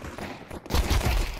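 Rapid gunfire from Counter-Strike 2 breaks out after a brief quiet moment, a loud, dense burst of overlapping shots that continues to the end.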